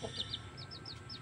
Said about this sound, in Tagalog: Malalaki na itong mga sisiw ng wild labuyo ko.